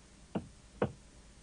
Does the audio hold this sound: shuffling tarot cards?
no